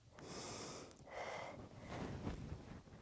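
A few soft, breathy inhales and exhales during a Pilates exercise, quiet and close to the microphone, with no talking.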